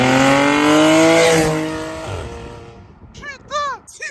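An Audi S5 with its exhaust valve open roars loudly as the revs climb and then fall away while it passes, fading into the distance. Voices break in briefly near the end.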